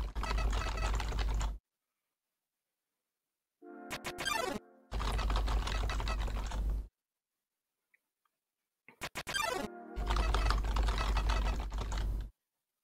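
Computer keyboard keys mashed rapidly during an Undertale Genocide speedrun, dense bursts of fast clattering typing separated by abrupt silences and brief game tones.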